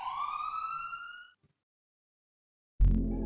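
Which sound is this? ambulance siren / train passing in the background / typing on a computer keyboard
ambulance siren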